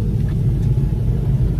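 Convertible car driving on the road at low speed, a steady close low-pitched engine and road rumble running continuously with no voices.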